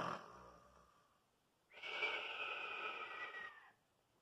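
A person imitates a sleeping dragon's snore for children, a soft breathy inhale followed by a longer rasping, snorting exhale, quiet and close.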